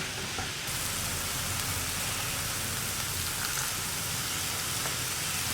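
Chicken momo filling with soy sauce sizzles in a pan while it is stirred, giving a steady, close hiss like rain that runs unbroken throughout.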